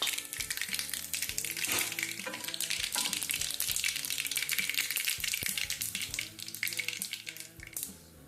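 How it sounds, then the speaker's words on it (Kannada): Mustard seeds and cumin sizzling and crackling in hot oil for Uttar Karnataka girmit, a dense continuous frying hiss with scattered pops and stirring clatter, close and fairly loud, no talk. "ಸಾಸಿವೆ ಹಾಕ್ಕೋತಾ ಇದ್ದೀನಿ ಜೀರಿಗೆ ಹಾಕ್ಕೋತಾ ಇದ್ದೀನಿ"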